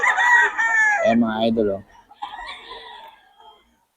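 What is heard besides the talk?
rooster crowing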